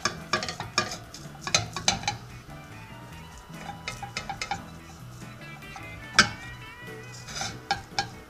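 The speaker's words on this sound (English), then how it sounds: "now what we're going to do is we're going to take apart this, bring it down with a fork" A fork breaks up Lightlife plant-based crumbles in a pan, with bursts of sharp metallic clinks and scrapes in irregular clusters over a soft background, close and fairly loud, with no speech.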